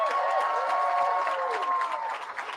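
Audience clapping at a grand re-opening ceremony for a recreation facility, a steady wash of many hands applauding at moderate distance, tapering slightly toward the end.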